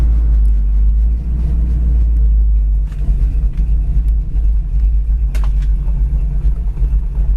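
A red 1971 Chevy Chevelle idles with a heavy, loping cam rumble, a loud, close, steady low throb with slight rhythmic unevenness and a few faint clicks.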